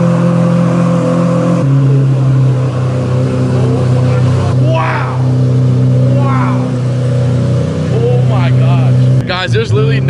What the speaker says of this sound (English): We're getting a cold start of the SV.